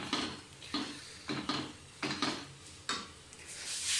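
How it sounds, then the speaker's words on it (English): Metal spoon scraping and clanking against a pot while masalas are stirred into a tomato-based sausage curry, several distinct strokes in an uneven rhythm, close and fairly quiet with no talk. "I add all the masalas and mix it well and mix it well."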